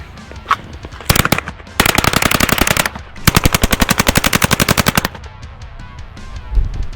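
A Polish PM63 machine pistol firing fast full-auto bursts, loud and close, with two long rapid strings of evenly spaced shots, preceded by a single sharp report and a brief stutter.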